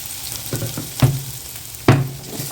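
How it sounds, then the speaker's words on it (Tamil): Chopped onion frying in hot oil gives a soft, steady sizzle, broken by a few sharp spatula knocks and scrapes against the pan, close by with no talk. "எண்ணெய் காஞ்சிடுச்சு வெங்காயம் போட்டலாம்"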